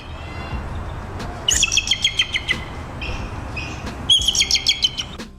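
Bald eagle giving its high-pitched, giggle-like call: two bursts of rapid, thin chirping notes, each a quick series of sharp peeps, fairly close and clear over soft background noise.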